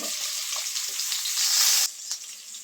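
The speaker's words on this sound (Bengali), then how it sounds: "পেঁয়াজটা লাল করে ভেজে নেব" Chopped onions sizzle steadily in hot oil, a bright continuous frying hiss with occasional stirring, then the sizzle drops abruptly toward the end, leaving quieter crackle.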